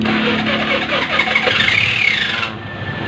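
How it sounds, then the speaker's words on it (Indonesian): A carburetor Honda Vario scooter with dim lights, abnormal battery charging and hard starting cranks and fires up. The engine note rises for about a second, then drops to a steady idle, loud and close with no talking. "Sekarang kita engkol dulu untuk motornya atau kita starter langsung ya."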